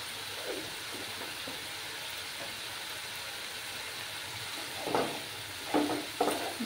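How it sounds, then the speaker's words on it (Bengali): Ginger, garlic and green chili paste with turmeric powder fries in a pan with a faint, steady sizzle, broken near the end by a few sharper stirring scrapes. "এবার আমি আদা, রসুন, কাঁচা লঙ্কার পেস্টটা দিয়ে দিলাম। দিয়ে হলুদ গুঁড়ো দিলাম।"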